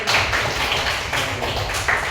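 Audience applause for a man's answer at an Indonesian talk event: steady, dense clapping from a crowd with a low room rumble underneath, continuous and moderately loud throughout.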